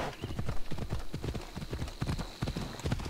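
Rapid, steady clip-clop of horse hooves trotting in the video game Assassin's Creed Odyssey, close and continuous, with a faint background hum.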